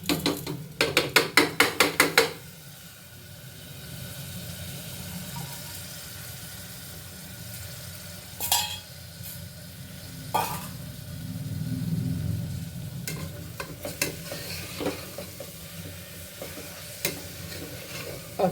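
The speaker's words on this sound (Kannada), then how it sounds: "ಅಕ್ಕಿ ಹಾಕಿದ್ಮೇಲೆ ಒಂದು ಸಾರಿ ಈ ರೀತಿ ಎಲ್ಲ ಕ್ಲೀನಾಗಿ ಹೊಂದ್ಕೊಳ್ಳೋ ರೀತಿ ಮಿಕ್ಸ್ ಮಾಡಿ" Soaked rice being stirred into tomato and spices frying in a pan, with a burst of quick metallic scraping at the start, then a steady sizzle and intermittent utensil clicks and scrapes.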